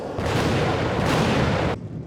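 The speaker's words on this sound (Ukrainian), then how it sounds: "Стережіться, ворожий залп." An enemy artillery volley in the Last Exile anime erupts as one dense, sustained roaring blast, loud and close, then cuts off sharply into a quieter low rumble.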